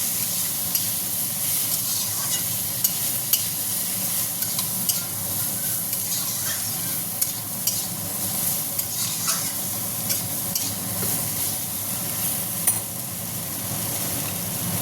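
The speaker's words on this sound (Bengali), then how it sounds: "এবার নাড়াচ্ছি।" Eggplant, potato and egg curry frying in a pan with turmeric, a steady close sizzle with small scraping clicks as it is stirred, continuous and without talk.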